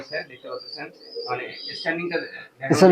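Teddy pigeons at a pigeon sale coo softly beneath near, continuous talk, with a louder burst of sound at the very end.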